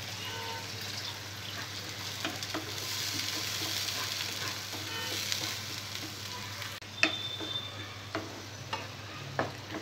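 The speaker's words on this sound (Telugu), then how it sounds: "టమాటో పేస్ట్ పచ్చి వాసన పోయే వరకు దీన్ని బాగా ఫ్రై చేసుకోవాలి." Tomato paste and ginger garlic paste fry in a pan for a dhaba-style paneer masala curry, giving a constant soft sizzle broken by stirring scrapes and a few clinks.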